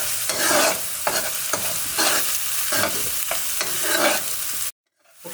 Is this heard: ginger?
yes